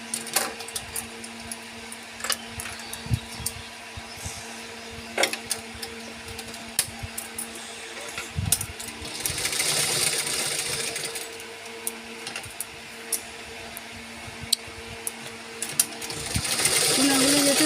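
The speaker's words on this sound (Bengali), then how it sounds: "সেখানে একটা টাকি সেলাই করবো।" A sewing machine stitches a bag in short, uneven runs, with clicking and ratcheting mechanical sounds close by and pauses between bursts of stitching.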